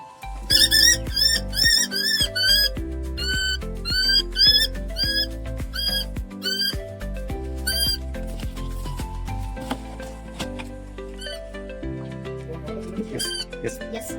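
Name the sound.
bird calling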